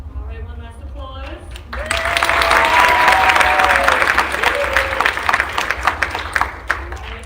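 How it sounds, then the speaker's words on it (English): A final round of applause at a college communications awards ceremony after a mentoring award, starting with a voice at the front, then swelling into full crowd clapping that tapers into scattered claps. "one last applause"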